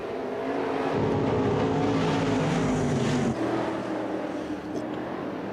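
Race cars roaring around the oval at Central Arizona Raceway in Casa Grande, a loud continuous engine drone from the field as it gets underway, with an announcer talking over it.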